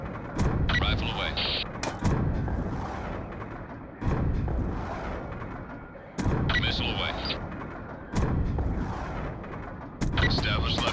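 Missiles fired during a drone strike boom out in repeated heavy launches about every two seconds, each a sharp blast trailing into a rumbling roar, with radio voices talking between them.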